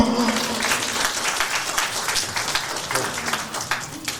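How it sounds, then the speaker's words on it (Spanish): Audience applause at a 50th birthday celebration, steady dense clapping from a crowd lasting throughout, moderately loud and continuous. "A ver, aplausos al público."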